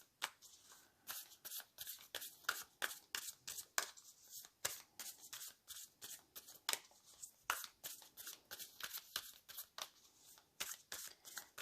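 Oracle cards from a Sacred Destiny deck being shuffled by hand, a steady run of quick crisp riffling bursts close up, alone with no talk.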